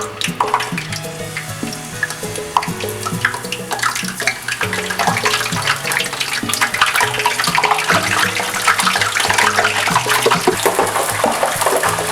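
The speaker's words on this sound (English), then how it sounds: "I like dipping them in ice cold water right before I put them in the fryer." Thin plantain slices are dipped and swished in a bowl of ice-cold water before frying, making continuous close splashing and trickling under steady background music.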